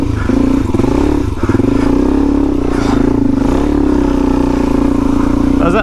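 A Suzuki DRZ 400e dual-sport motorcycle with upgraded gearing rides a dirt trail, its engine droning loud and steady close by, with brief revs, rattles and scrapes of gravel and gear.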